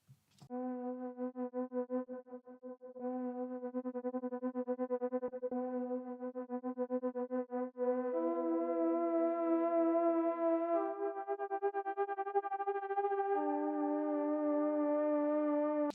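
A sustained, distorted synth-like sample sweeps through a series of stepped pitches, processed with an auto pan effect in Ableton that adds a rapid pulsing wobble; loud and continuous with no talk.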